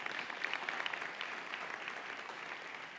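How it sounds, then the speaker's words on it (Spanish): Church congregation applauding during a Spanish-language sermon, a steady wash of many hands clapping for about three seconds, fairly distant and moderate in level, with no speech over it. "¿Quién le puede dar un aplauso a Cristo por los premios que vamos a recibir?"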